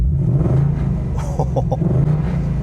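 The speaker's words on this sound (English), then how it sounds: "that active exhaust, even when it's in like its comfort quiet setting, never lets you forget that you have an American V8 that's naturally aspirated" A 2025 Ford Mustang Dark Horse with a naturally aspirated V8 and active exhaust starts, giving a heavy low rumbling idle that swells briefly in the middle, close and steady, with no talk.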